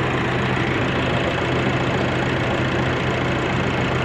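A 2015 Nissan Navara pickup engine idles steadily up close, a continuous low rumbling drone with a faint knocking texture and no change in pace.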